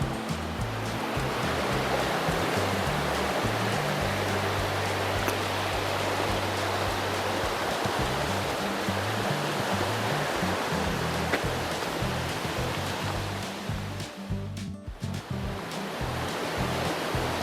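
Noland Creek rushing beside a hiking trail in the mountains, a steady, close broadband flow of water that continues without pause, with no voices.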